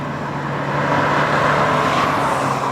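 A 2015 Honda Fit with a manual transmission drives along, its engine hum and road rumble steady and fairly loud from inside the cabin.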